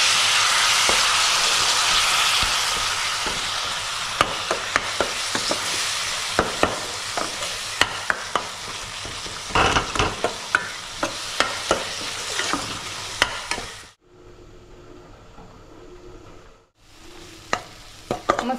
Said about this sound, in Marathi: मसाला आपला चांगला फोडणीतला आता परतून झालाय.